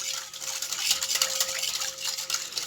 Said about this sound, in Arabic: نقلب كويس لغاية التوابل كلها والملح يدوبوا مع بعض في المية